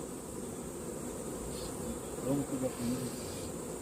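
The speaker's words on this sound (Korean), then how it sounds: "깨밭에 갔다 왔는데 벌이 굉장히 많아요" Honey bees buzz around beehives near a sesame field in the highlands, a dense, steady outdoor drone with a few louder bees passing close by.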